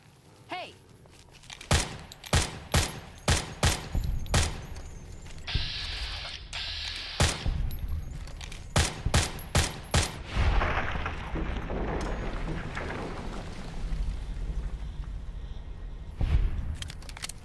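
Gunfire in the video game Fallout New Vegas, a rapid volley of loud, sharp shots followed by a pause and a second burst, then a long rumbling tail and one later bang.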